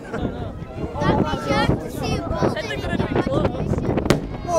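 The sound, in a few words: air show pyrotechnic bomb explosions on ground targets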